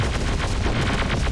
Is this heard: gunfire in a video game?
yes